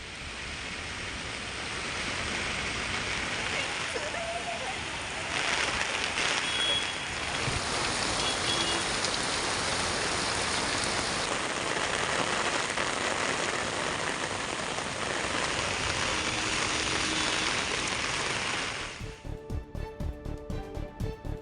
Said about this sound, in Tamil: திடீரென கருமேகங்கள் சூழ்ந்து காற்றுடன் கூடிய கனமழை பெய்தது